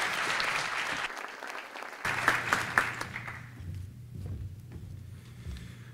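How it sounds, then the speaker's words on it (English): Audience applause at a morning economic outlook breakfast event, a dense burst of clapping from a seated crowd that swells quickly and then thins out over several seconds. "let's give another round of applause to all of the folks who shared their good news this morning"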